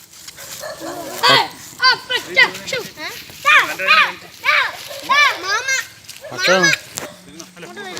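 Several sharp dog barks and yips ring out close by, mixed with children's excited voices talking and shouting throughout.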